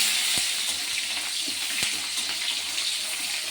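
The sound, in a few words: chopped onion frying in oil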